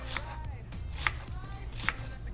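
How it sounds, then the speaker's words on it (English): A knife chops an onion on a cutting board in a home kitchen: three crisp, evenly spaced chops about a second apart, close up over a low room hum. "onion, cut it in half and just cut it after"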